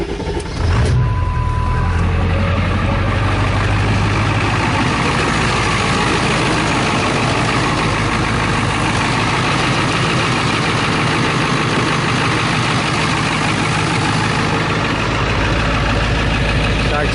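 A 2000 Ford F350 with a 7.3 Power Stroke diesel and nearly half a million miles cold-starts with a short cranking burst. It settles into a loud, steady rumbling idle heard up close.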